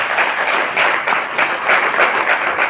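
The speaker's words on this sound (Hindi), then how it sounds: "तो मेरी वाइफ के लिए जोरदार तालियां बजा दीजिए" Audience applause at a Hindi motivational talk, a dense, even patter of many clapping hands pulsing steadily throughout.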